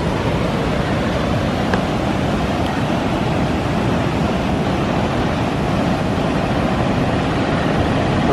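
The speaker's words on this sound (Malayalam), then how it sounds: "അവിടെ ചെറുതായിട്ട് ആ ഒരു ഷട്ടർ വഴി വെള്ളം ഇറങ്ങുന്നുണ്ട്." Water pours out through a slightly opened shutter at Bhoothathankettu Dam, a steady, loud, broadband roar of rushing water that holds evenly throughout with no voices over it.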